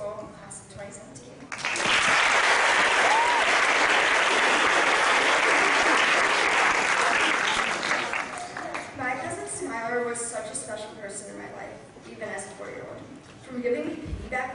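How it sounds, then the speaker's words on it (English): A school audience bursts into a huge round of applause for the Farragut Bell School Class of 2017 at an 8th grade recognition night, loud and dense for several seconds before fading under a speaking voice. "give a huge round of applause for the Farragut Bell School Class of 2017"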